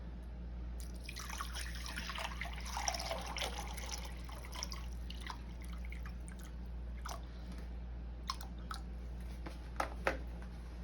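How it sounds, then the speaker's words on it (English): Distilled water pours and trickles steadily into a half-gallon glass mason jar, with scattered drips and splashes over a low constant hum. "So pour the water in there."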